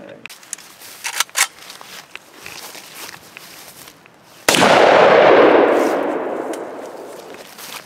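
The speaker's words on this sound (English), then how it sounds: "Now we're moving up to an AK bullet." A single very loud AK rifle shot fired at stacked laptops blasts out after a few seconds of quiet shuffling and footsteps, its boom trailing off in a long reverberant decay outdoors.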